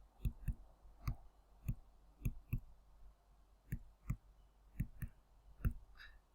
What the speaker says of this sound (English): So I'll just type that into my calculator.